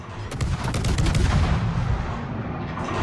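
Artillery fire support in a video game, with a burst of heavy booming blasts and rapid gunfire up close that dies away into a fading rumble.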